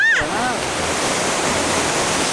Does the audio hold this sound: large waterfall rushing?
yes